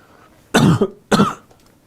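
Two loud, close coughs, each a harsh burst, separated by a short pause in an otherwise quiet room.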